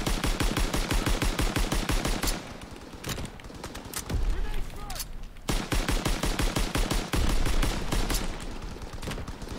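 Rapid gunfire from a Call of Duty WW2 beta match on PS4, with dense automatic bursts running almost continuously, brief pauses between volleys and loud close shots throughout.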